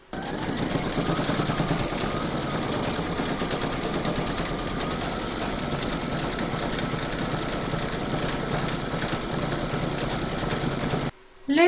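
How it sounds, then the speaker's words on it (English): An embroidery machine stitches a design with a fast, steady mechanical chatter, continuous and close at moderate loudness, stopping abruptly near the end. "Load your thread colour for the bottom heart into your machine and then stitch round number 20."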